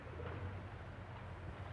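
Pigeons cooing nearby outdoors, a soft, low, rolling coo repeated in a steady rhythm over a quiet background.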